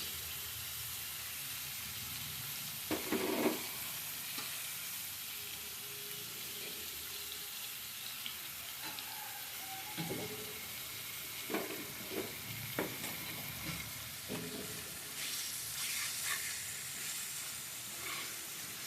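Meat pieces added to a cooked-down spice paste in a pan, frying and being stirred, with a soft steady sizzle and scattered scraping and clinking of a spatula against the pan throughout.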